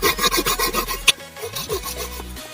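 An old plastic bottle is cut into a rope strip, giving a rapid rasping scrape that repeats in quick rhythmic strokes. There is one sharp snap midway and low hum under the later part.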